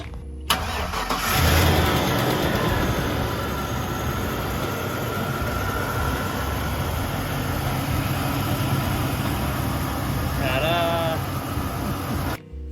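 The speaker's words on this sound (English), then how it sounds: "we're ready to start up this vehicle" A Chevy or GMC truck engine cranks and turns over after a fuel pump replacement, then settles into a steady idle that continues throughout, with a brief higher squeal near the end.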